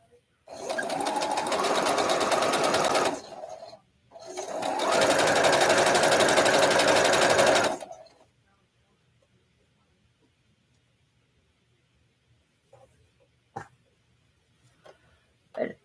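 A sewing machine stitches fabric quilt blocks together in two steady runs of rapid mechanical whirring, a short pause between them, followed by quiet with a few faint clicks near the end.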